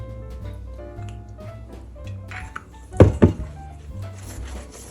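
A sharp knife cuts through rolled phyllo baklava in a baking tray with a couple of quick, close crunchy slices, followed by quieter scraping.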